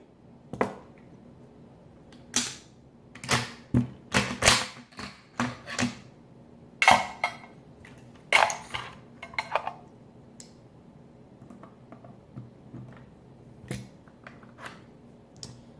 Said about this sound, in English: We'll disassemble my RPK.